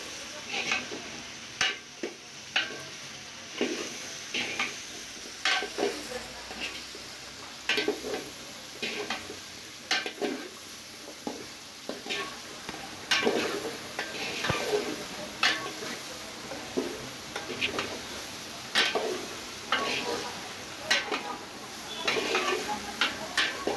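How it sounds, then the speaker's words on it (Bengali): Vegetables are stirred and fried with spices in a pan for traditional Bengali pachan, with a steady run of scraping, clinking spoon strokes over a soft background sizzle. "এবার সবজিগুলোকে মশলার সাথে মেশানো হচ্ছে।"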